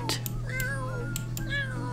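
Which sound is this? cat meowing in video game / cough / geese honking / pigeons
cat meowing in video game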